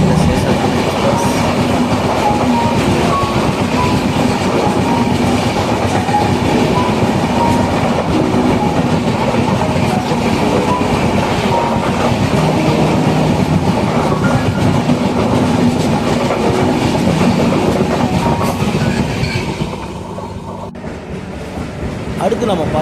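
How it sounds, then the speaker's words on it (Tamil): The 17210 Seshadri Express passing on an Indian railway line, a long, loud rumbling roar of coaches with rhythmic wheel clatter over rail joints, sustained for about twenty seconds before dropping away as the train clears. "அடுத்து நம்ம பார்க்கக்கூடியது 17210 சேஷாத்ரி எக்ஸ்பிரஸ்"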